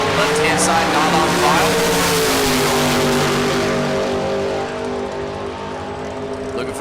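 A 1972 Taco Bravo Camaro makes a drag strip run, its engine roaring loud and close with rising and shifting pitch before easing off, while a commentator talks over it.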